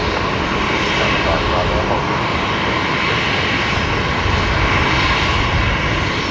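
Airbus A330 airliner engines roaring loud and steady during landing at Brisbane Airport, with only one thrust reverser deployed, a continuous broadband rumble and whoosh filling the whole stretch without letup.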